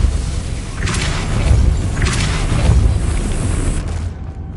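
In the video game Hogwarts Legacy, a Depulso spell fires with a loud booming blast, followed shortly by a second similar whooshing thump over a rumbling game background, ending in a quiet tail.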